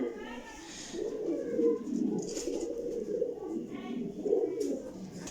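Parwazi flying pigeons coo in low, throaty, repeated murmurs close by, with someone talking over and between the calls.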